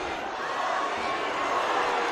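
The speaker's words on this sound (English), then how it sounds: "Crowd chanting for Bobby." Crowd at a live fight event chanting for fighter Bobby: a steady wash of massed voices, continuous and fairly loud, with no distinct rhythm standing out.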